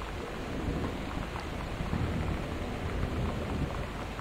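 Steady heavy rain with a low rumble of thunder in the video game Gone Home, a dense continuous wash of noise filling the whole stretch with no voices.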